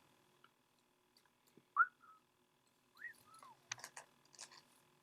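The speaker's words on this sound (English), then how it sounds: "He whistles a carefree tune, seemingly at peace with the world." A man idly whistles a carefree tune while reclining in a prison cell, with a few short melodic whistled phrases rising and falling, sparse and fairly faint, alongside soft clicks and rustles.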